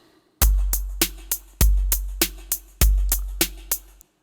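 Repeated percussive hits amplified to double loudness, loud and clipped-sounding, in three rhythmic groups of a heavy low thump followed by sharper decaying strikes, alone with no voices.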